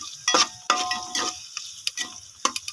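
Onion and tomato sautéing for a mutton thalaikkari curry, with bursts of spoon scraping and stirring against the pan over a soft sizzle, several strokes spaced irregularly, close and moderately loud.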